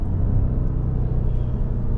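The V8 engine of a BMW M550i rumbles loud and close, a deep steady growl under throttle with no talk.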